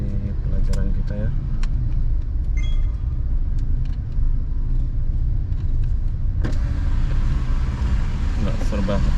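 Heavy traffic jam on Batu Aji road in Batam, a continuous low rumble of idling and creeping engines close by, with occasional clicks and thumps and people talking over it.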